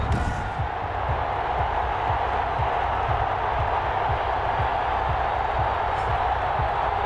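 A stadium crowd roars steadily at an NFL game between the Indianapolis Colts and Detroit Lions in Madden 21, a dense continuous wash of cheering with a commentator's voice over it.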